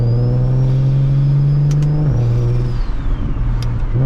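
A single-turbo BMW 335is accelerates hard on a residential road, its engine droning loudly and climbing in pitch, then dropping at a gear change before pulling up again, close and without talk.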